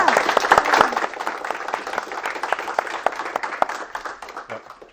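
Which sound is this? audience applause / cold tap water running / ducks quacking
audience applause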